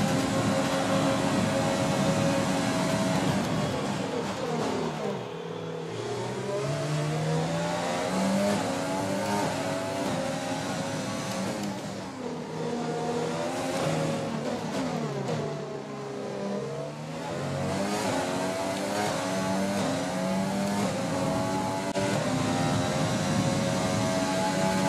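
An F1 car engine in the racing game F1 2020 revs loud and high, climbing and dropping through gear changes in repeated sweeps, with brief dips as it downshifts.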